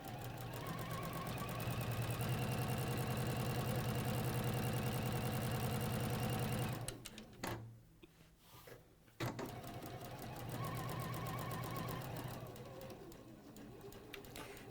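A sewing machine stitches fabric while a bag is made, its fast steady motor buzz running loud for about seven seconds, dropping into quiet with a few short bursts, then running again.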